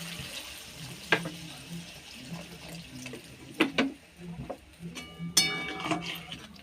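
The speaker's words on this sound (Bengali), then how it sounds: "এবার পরিমাণ মতো জল দিয়ে দেব" Water poured into a pot of sautéed potatoes while cooking aloo dum, a soft splashing trickle with a few clinks of utensils, fairly quiet in a home kitchen.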